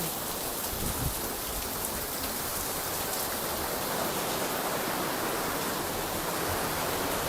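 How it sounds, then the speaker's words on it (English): Rain falls steadily outside a house, a soft, even hiss of drops on surfaces that continues without a break. "I can feel the rain standing inside over here also."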